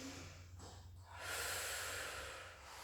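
A slow breath is drawn in during a Pilates exercise, starting faintly and swelling into a soft airy inhalation close by, with no talk.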